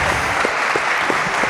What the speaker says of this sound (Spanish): un aplauso también para Juan Carlos Hidalgo